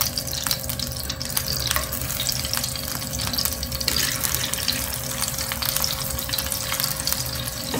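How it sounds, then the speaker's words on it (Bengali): Pabda fish sizzling and frying in hot oil in a wok, a steady loud crackle and hiss that fills the clip with occasional stirring clatter, no voices. "এখন আমি মাছগুলো দিয়ে দিব।"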